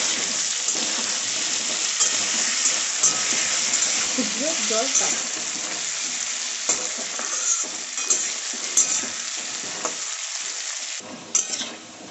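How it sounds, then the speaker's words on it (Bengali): A spatula stirs fried potato and gathi taro with green chilli paste in a pan. The food sizzles loudly and continuously, with repeated close scraping and stirring sounds over roughly twelve seconds. "আবারও খুব ভালোভাবে মিক্স করে নেব"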